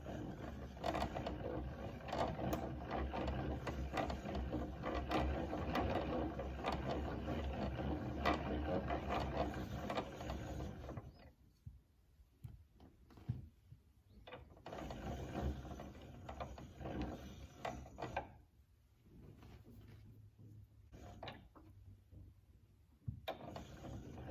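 A yarn ball winder turns and winds yarn with a steady ratcheting, geared whir for about ten seconds, then stops and restarts in shorter bursts, close up and with no talking.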